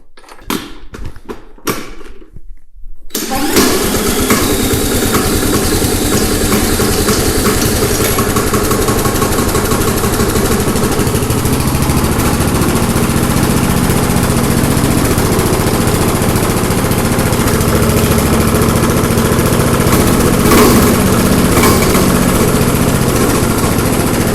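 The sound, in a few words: cheap Craftsman lawn mower engine running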